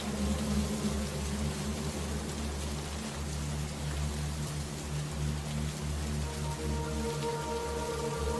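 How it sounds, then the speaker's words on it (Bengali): Steady cartoon rain falling, a dense even patter of drops heard alone over a low constant hum, with no voices. "সেই কখন থেকে বৃষ্টি শুরু হয়েছে, এখনো থামছে না"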